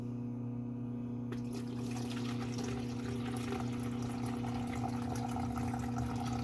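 Water running steadily from a tap into a container on a scale, mixing lye water for homemade soap; a continuous close pour with a low hum underneath, no talking.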